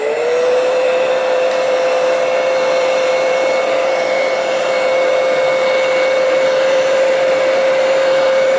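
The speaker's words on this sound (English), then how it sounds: "I'm going to use a heat gun. This will take just a minute." A heat gun drying DecoArt Weathered Wood crackle medium blows a loud, steady whine and airy hiss without a break, heard alone.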